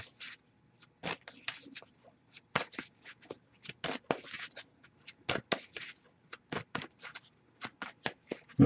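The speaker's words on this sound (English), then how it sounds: "I'll shuffle a little longer, see if anything comes up." Tarot cards being shuffled by hand in quick, irregular bursts of soft riffling and slapping, close and fairly quiet, with no talk.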